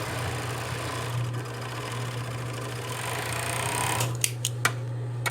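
An overlock sewing machine runs steadily as it serges the crotch seam of trouser fabric, giving a continuous close hum and whir, followed by a few sharp clicks as the stitching stops.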